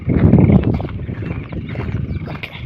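A tractor ploughs a farm field in a Gir orchard, heard as a close, low rumbling engine with gusts of wind noise over the microphone and no talking.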